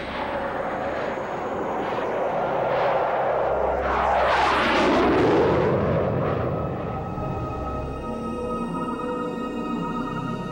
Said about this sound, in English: the Belgian Air Force were able to scramble two F-16 fighters to intercept the unidentified